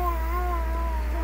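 Cat meowing: one drawn-out, wavering meow heard close over a steady low hum.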